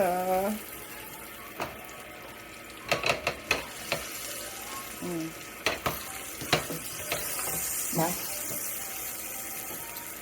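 A garlic butter pork chop sizzles and fries in a pan, a steady close hiss broken by scattered clicks and scrapes, with brief bits of talking over it.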